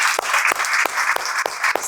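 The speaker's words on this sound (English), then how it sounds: "we'll keep round of applause maybe for these" An audience applauds book authors at a book launch, a short burst of steady, close clapping.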